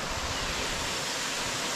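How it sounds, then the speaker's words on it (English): A small waterfall at a bathing place in Bulutota, Sri Lanka, flows down from a rock as a steady, dense rush of water, close and continuous with no voices. "The small waterfall flowing down from a rock"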